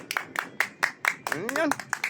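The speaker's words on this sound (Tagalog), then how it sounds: "Palakpak mo, video mo, taga palakpak mo" Sharp hand claps ring out in a steady rhythm, about one every quarter second, close and fairly quiet, with a voice briefly speaking over them partway through.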